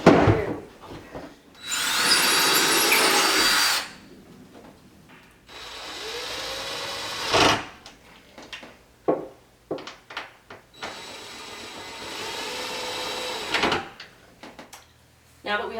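A wooden cabinet is installed with toggle bolts using power tools: two long bursts of a power drill whir, separated by sharp wooden knocks, thumps and scattered clatter close by, with speech in places.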